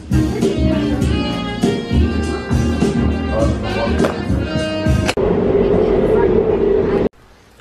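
Tokyo train near Omotesando, loud and close, a steady rumbling run with rhythmic clatter, then a hissing roar before cutting off; no speech over it.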